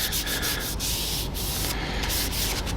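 Cloth rubbing sanding sealer onto a turned wooden mill body, a continuous dry hissing scrub with quick rhythmic strokes, close and steady with no talking.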